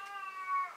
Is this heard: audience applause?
no